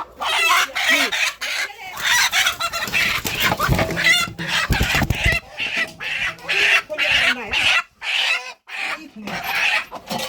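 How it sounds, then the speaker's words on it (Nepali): Chickens cluck and crow around a rural farmyard with hens' nests, including a black hen laying eggs; busy, close clucking runs throughout, interleaved with a person talking. "देख्यौ कालो कुखुरा रहेछ यहाँ चाहिँ।"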